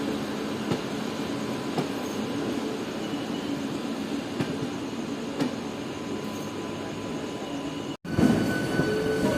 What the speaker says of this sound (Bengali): আমাদের ট্রেনকে আউটারে দাঁড় করিয়ে ট্রেন পাস করছে ডিব্রুগড় থেকে হাওড়া কামরূপ এক্সপ্রেস